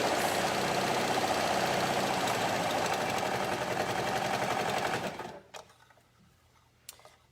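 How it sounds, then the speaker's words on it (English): A serger sewing machine threaded with dark thread runs steadily at a fast, even whir for about five seconds, then stops, leaving a few faint clicks and handling noises in a quiet room. "Yes, this is a serger"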